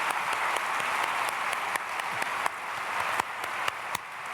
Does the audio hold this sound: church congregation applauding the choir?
yes